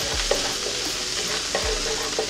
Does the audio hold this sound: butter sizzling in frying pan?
yes